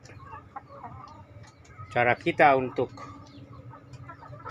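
Chickens, including a rooster, cluck and call in a backyard flock that has been fed vegetable scraps, giving a couple of loud, close squawking calls over soft background clucking while someone speaks.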